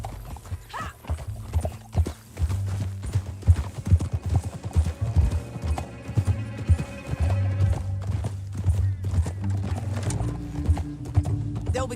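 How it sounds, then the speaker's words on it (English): Horse hooves gallop in Red Dead Redemption 2, a rapid rhythmic drumming of clip-clops close by with a brief whinny, carried over a continuous game soundscape. "Back on your horse, let's get after them."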